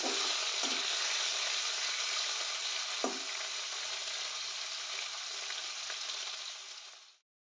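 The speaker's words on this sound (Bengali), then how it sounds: "তো এই চিকেনটা এখন ফ্রাই করতে দেবো" Boneless chicken pieces fry in hot oil with a steady, dense sizzle that fills the whole stretch, punctuated by a couple of sharp clinks from stirring before cutting off abruptly.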